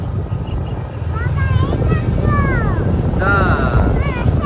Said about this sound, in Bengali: এদিকে কত সুন্দর বাতাস না